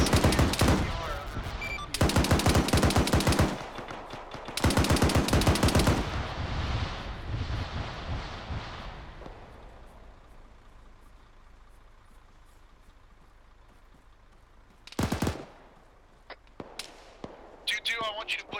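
A Mark 19 automatic grenade launcher fires bursts of rapid, thumping rounds in a field training exercise, loud and close in several long strings, then fading to quiet before a few sharper shots return near the end.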